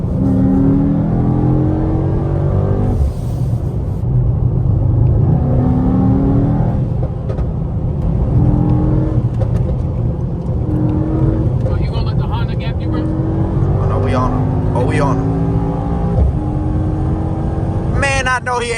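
A Mercedes-AMG GT63S cruising a highway at night drones loudly from inside the cabin, rising and falling through shifts. Sharp exhaust pops and crackles burst out on lift-off, with a voice heard occasionally over the engine.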